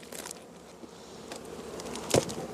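Honey bees buzz faintly around an open hive during an autumn inspection, a soft steady drone with a brief knock of handling near the end.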